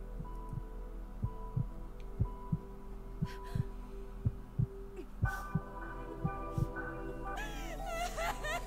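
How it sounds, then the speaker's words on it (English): Heartbeat sound effect from the anime Attack on Titan, a steady series of low thumping beats under a faint hum, joined near the end by rising tones and a brighter burst. "she heard his heartbeat"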